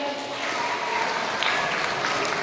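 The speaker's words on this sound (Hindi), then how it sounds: "सारे गोल्ड सिल्वर ब्रॉन्ज वालों के लिए एक बार जोरदार तालियां हो जाए।" Applause from a crowd for the gold, silver and bronze medal winners at a school sports meet award ceremony, a steady, fairly faint wash of clapping throughout.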